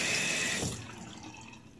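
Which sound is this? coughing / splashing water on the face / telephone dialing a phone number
splashing water on the face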